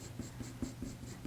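Colour pencil rubbed backwards and forwards over textured watercolour paper for blending, giving a steady rhythmic scratchy swish about every fifth of a second, close and fairly quiet with no talking.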